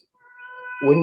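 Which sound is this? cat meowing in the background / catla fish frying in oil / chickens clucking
cat meowing in the background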